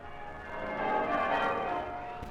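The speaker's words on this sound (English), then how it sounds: "the bells of the town pealing out there beyond his window." Church bells of a town peal in a soft, sustained ringing, swelling and fading over a couple of seconds with no voices.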